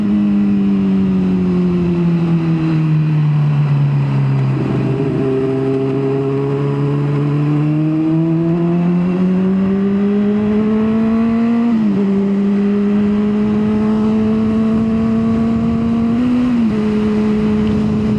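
A 1000 cc motorcycle engine runs steadily and loud throughout, rising and falling in pitch as the throttle is worked and gears shift, with no talking over it.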